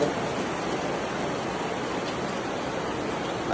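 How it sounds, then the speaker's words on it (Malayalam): Heavy monsoon rain pours down outside a farm in a dense, unbroken hiss, steady and fairly loud throughout with no voices over it. "പുറത്ത് നല്ല മഴ കേട്ടോ മഴ"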